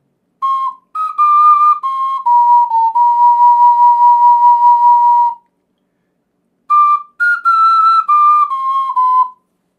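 Ocarina playing a phrase of a melody with the bar-opening eighth notes clipped short. Clear, pure, whistle-like tones are heard in two phrases separated by a short pause, including one long held note.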